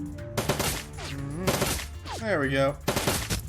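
Automated turret gunfire in the Shadowrun Dragonfall video game, a burst of repeated shots under game music and someone talking over it.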